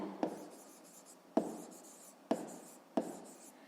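Pen or pencil writing answer digits for a maths exercise, quiet scratchy strokes broken by four sharp taps as each number is started, close and alone in a hushed room.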